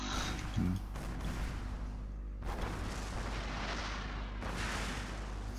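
A deep booming video game cannon shot rolls out amid dense, rumbling battle noise, followed by further heavy blasts.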